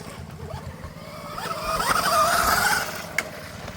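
A Rawrr Mantis X dirt bike fitted with an aftermarket sprocket is ridden hard off-road. Its engine revs climb to a loud peak and then drop away, with a sharp click near the end and no voices.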